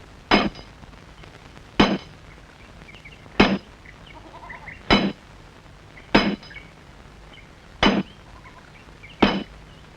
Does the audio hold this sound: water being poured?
no